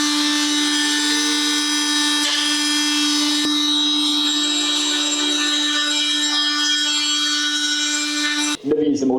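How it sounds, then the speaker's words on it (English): A Hikoki 36V cordless multi-tool cuts into wood with a loud, steady, high-pitched whine rich in overtones, holding for about eight seconds before cutting off abruptly near the end. "Never used a multi-tool to do that before, but it actually worked quite well."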